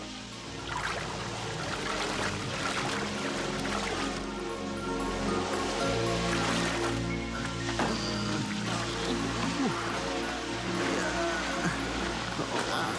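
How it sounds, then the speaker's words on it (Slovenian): Rushing, pouring water as the level rises in a cartoon, a continuous splashing stream with churning surges under voices talking. "Gladina vode narašča."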